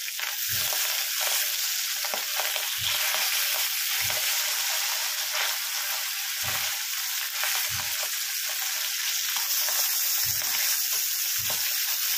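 Pabda fish fries in hot oil with a constant loud sizzle, broken by occasional sharp spluttering pops every second or two.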